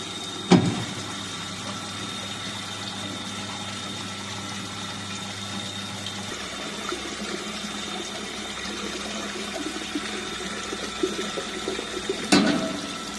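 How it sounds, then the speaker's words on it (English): Water pours steadily into the storage tank of a flow measurement rig, a continuous broadband rushing with a steady tonal hum from pump equipment, knocks at the start and end, no voices. "Now we will collect water in storage tank for next 1 minute."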